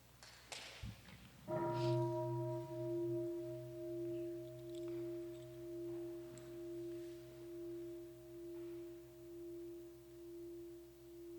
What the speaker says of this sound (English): she's requesting for the bell to help us to come back to our gentle breathing and nourish ourselves